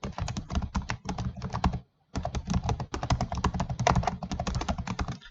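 Keys clatter on a computer keyboard while text is typed into Microsoft Word, fast bursts of close tapping that stop briefly for a pause, then resume with no voices.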